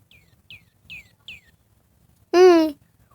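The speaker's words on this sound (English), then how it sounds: "My bird is here." A video game bird gives four quick, thin chirps at even spacing, then one louder, longer rasping call, with no talk and near silence between.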